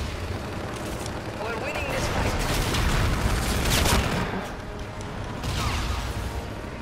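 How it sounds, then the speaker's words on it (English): An allied Trinity rocket strike lands in Call of Duty: Infinite Warfare: a rolling, roaring blast that swells over several seconds, fades, then surges again. "Allied Trinity rocket arriving on site"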